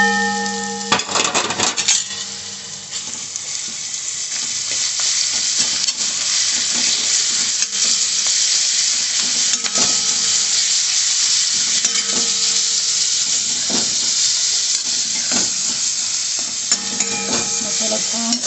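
Onion, turmeric and red chutney masala fry in a pan with a loud, steady close-up sizzle, broken by occasional stirring scrapes and clinks of a spoon. No voices.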